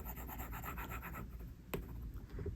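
A stylus coloring in a digital drawing on a tablet, giving a close run of quick, rhythmic scratchy strokes, then a pause and a few sparser strokes.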